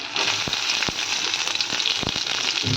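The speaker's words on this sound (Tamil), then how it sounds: "வெங்காயம் நல்லா கோல்டனாக வதங்கிட்டுருக்கு" Onions sauté to golden in a pan for a cluster bean gravy, giving a steady loud sizzle and crackle with a few sharp pops throughout.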